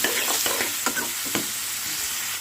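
Chicken curry ingredients fry in hot oil with a loud, steady sizzle, broken by a few scraping stirs of a spoon in the pan near the start.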